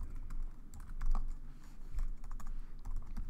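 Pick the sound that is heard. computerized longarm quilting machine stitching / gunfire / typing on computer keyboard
typing on computer keyboard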